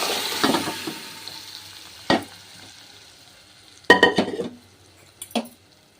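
Spoon stirring moringa leaf dal into a tempering in a pan, with a few distinct scraping and clinking bursts over a faint sizzle, close and moderately loud with no voices.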